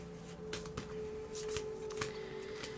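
Tarot cards slide and shuffle as they are pulled from a deck, a series of soft papery swishes and flicks, close and quiet over a faint steady hum, with no talking.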